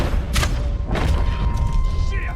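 Gunshots in Red Dead Online during a stealth mission, two sharp booming shots about half a second apart with a guard crying out, heard over loud game ambience.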